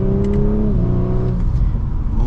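A 2024 Audi S4 Premium Plus sedan engine revs hard under acceleration, the tone climbing and dropping through quick gear shifts, loud and close with no talking.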